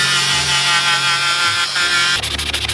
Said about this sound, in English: take some kind of Dremel and clean it up, or just some sandpaper